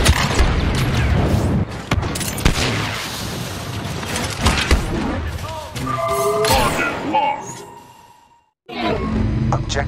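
Explosive charges detonate the front pipes of a Separatist cruiser during a Galactic Assault multiplayer battle on Kashyyyk in Star Wars Battlefront 2. Heavy booms and crashing blasts hit over dense battle noise, then cut briefly to silence before the din resumes.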